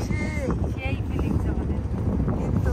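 Wind rushes and buffets steadily against a houseboat out on the Padma river near the Padma bridge, a constant close roar with voices faintly mixed into it.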